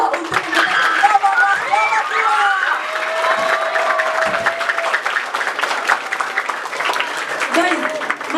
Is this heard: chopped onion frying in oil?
no